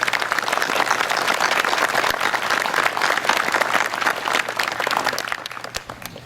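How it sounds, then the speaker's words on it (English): A graduation audience at Tilton School in 2017 bursts into sustained applause, many hands clapping in a dense, even roar that carries on for several seconds before easing slightly near the end. "You also deserve our applause."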